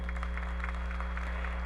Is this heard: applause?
yes